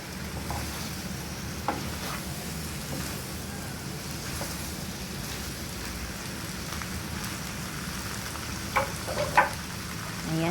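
Sweet and sour shrimp being stirred in a hot pan, a continuous soft sizzle like light rain with occasional clicks of a utensil against the pan, no talking.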